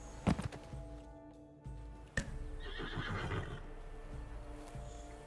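A horse whinnies in the video game Witcher 3 Wild Hunt, a brief close neigh followed by shuffling and soft thuds over faint ambient background.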